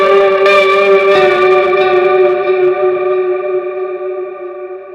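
Electric guitar run through a pedalboard with a vibrato modulation effect: a sustained chord with wavering pitch, struck twice near the start, then ringing out and slowly fading, loud and alone with no talk.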